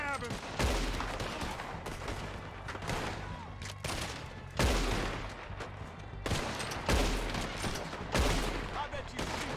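Repeated bursts of gunfire in Red Dead Redemption 2, several heavy volleys a few seconds apart, loud and close, with brief voices mixed in.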